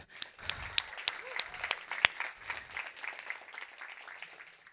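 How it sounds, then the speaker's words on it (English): A conference audience claps for a children's rights business initiative, modest thin applause made of scattered distinct claps rather than a dense roar, fairly quiet and fading toward the end. "So I think that's worth an applaud."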